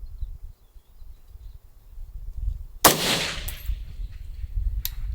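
A 6mm ARC rifle fires once at a 10-inch steel popper 1,000 yards away. The shot is a loud, sharp crack midway through, followed by a short echoing tail, against quiet outdoor background noise.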